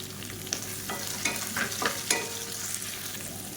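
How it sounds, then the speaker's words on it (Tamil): Sliced onions sautéing with green chillies in a hot pan for roadside-style onion kurma, a steady soft sizzle broken by several scraping stirs of a spatula, close and moderately quiet with no talking. "மீடியம் சைஸாக 2 பெரிய வெங்காயம் நீளமாக நறுக்குனதை சேர்த்துக்கலாம்."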